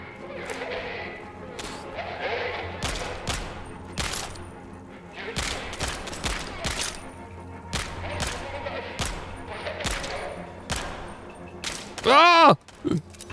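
Bursts of AK rifle gunfire in a video game ring out in quick successive volleys across the stretch, with a louder close burst near the end, mixed among game effects and a talking voice.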